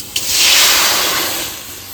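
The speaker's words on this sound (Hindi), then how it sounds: "और बाद फिर कढ़ाई में डाल देता हूँ पानी उबाल आए बार।" Water poured into a hot kadhai on a gas stove gives a loud, close hiss that swells quickly after a brief tap and fades slowly over about two seconds.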